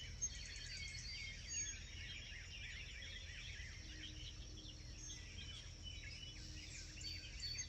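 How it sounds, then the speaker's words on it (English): Faint, distant birdsong on a quiet countryside homestead morning at sunrise, with chirps and trills scattered over a low steady background hum and no voices. "Sun's rising, birds are chirping."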